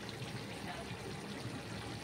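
Rice water drains through a perforated vessel used as a colander, making a steady, soft trickle and light splashing throughout the brief moment.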